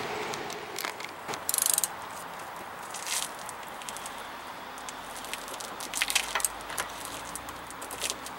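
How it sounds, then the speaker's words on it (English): Bolts are fastened while installing a Flex Air pin box on a Cougar fifth wheel trailer, giving faint ratcheting clicks and metallic rattles scattered over several seconds, with a few sharper bursts. "Get those bolts in."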